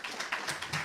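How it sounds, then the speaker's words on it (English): A small audience applauds a speaker being welcomed on stage at a religious talk, a brief patter of claps at moderate distance with no voices over it. "Let's bring her on with a round of applause"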